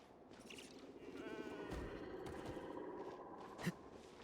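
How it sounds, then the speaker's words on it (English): A goat in the Genshin Impact video game gives a drawn-out, wavering bleat, fairly clear over a steady game background, ending with a short sharp knock. "Oh my gosh, there's a goat!"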